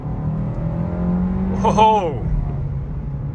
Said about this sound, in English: So let's give it some gas and see what this Kia is all about